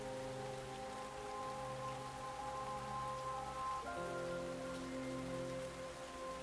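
Steady rain falls in Lost Judgment, a continuous even downpour heard alone, with sustained game music tones layered over it.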